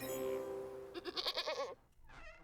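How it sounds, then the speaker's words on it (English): Goat bleating in the video game Wytchwood, a single wavering bleat with a tremulous, stuttering middle, followed by a softer short call after a brief pause, heard alone and up close. "that was a much better goat noise than I can do"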